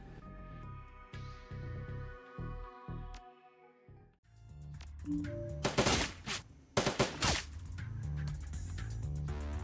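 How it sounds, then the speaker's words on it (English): Automated turrets in Shadowrun: Dragonfall fire in dense, sharp bursts of rapid shots and crashes during the second half. Game music comes before them and continues underneath. "Yes, turn on these turrets."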